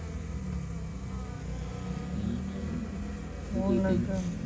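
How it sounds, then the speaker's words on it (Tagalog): A fly buzzes close by in a continuous droning whine, with people talking faintly around it and a louder voice near the end. "Mukhang langaw."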